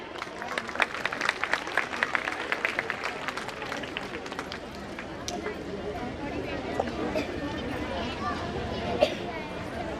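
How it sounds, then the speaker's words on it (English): School ceremony audience applauding for a guest, a broad burst of clapping that fades after a few seconds into murmuring crowd chatter and light movement noise. "Can you have a huge round of applause for him?"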